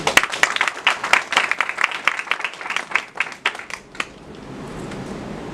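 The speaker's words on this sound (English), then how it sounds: "Give yourself a round of applause." Graduates and audience applaud at a bank trainees' graduation ceremony, a dense burst of clapping lasting about four seconds before fading into room noise.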